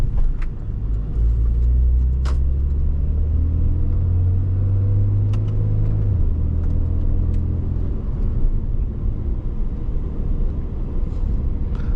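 A 2014 Porsche 911 Carrera 4S 991.1 PDK Cabriolet accelerates with a loud engine note that climbs through the revs, drops at a gearshift and then settles into a steady rumble, heard from inside the car with road noise and no talking.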